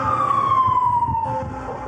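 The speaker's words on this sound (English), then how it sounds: "I could hear sirens off in the distance" A siren wails far off, its tone gliding slowly downward over a low rumbling background, steady and fairly loud throughout with no talking.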